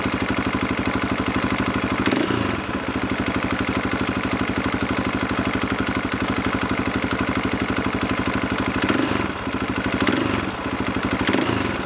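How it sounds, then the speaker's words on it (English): A dirt bike engine idles steadily and close by with a Trail Tech electric cooling fan running, a constant mechanical drone carrying a few brief revs or bumps along the way, with no talking. "The fan is on. It's blowing really nice."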